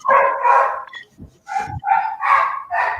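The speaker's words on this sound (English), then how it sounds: "Except these fucking dogs." Several dogs bark in loud, repeated bursts close by, with short gaps between the barks and no talk over them.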